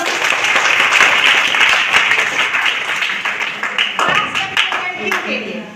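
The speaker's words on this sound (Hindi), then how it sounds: "चलिए बच्चों, इसके लिए ताली बजाओ" Children clapping together in a classroom-style session, a loud burst of hand claps that thins into scattered claps as it trails off, with some voices under it.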